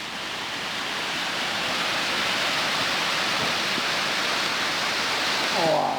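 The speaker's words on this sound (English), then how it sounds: "Probably Ammonoosuc Falls. On the side cascade there. Down to the pool." Ammonoosuc Falls in New Hampshire sends a steady, dense hiss of cascading water down toward a pool, close and continuous throughout, with a brief voice-like sound near the end.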